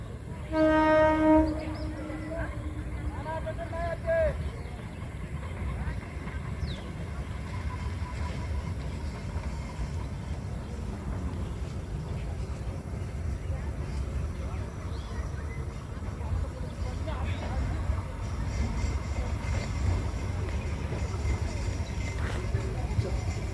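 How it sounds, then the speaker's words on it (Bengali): A train horn blasts at the start as the train arrives at a station, followed by a long steady rumble of the approaching cars with platform crowd noise underneath. "আপনারা দেখতে পাচ্ছেন এবং শুনতেও পাচ্ছেন হুইসেল বাজে ট্রেন আসছে"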